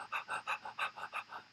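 A human voice imitates a dog panting with quick, rhythmic breathy huffs, about eight evenly spaced pants in a rapid steady cadence, close and clear.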